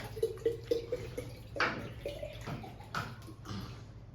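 Water runs weakly from a tap at low pressure, giving a thin, uneven splashing with a few brief surges over a steady low indoor hum.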